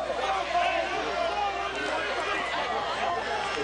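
Loud homecoming-night crowd at a Grandview High School football game, a dense, continuous roar of cheering and chatter from many voices filling the stands.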